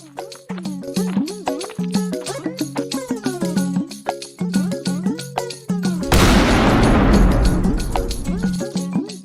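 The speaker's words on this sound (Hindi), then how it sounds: "मैं चुपके से उसके सामने पटाखा गिराऊंगा।" Animated cartoon voices chatter, then a loud firecracker blast erupts into a noisy, rumbling burst lasting a couple of seconds before the talking resumes.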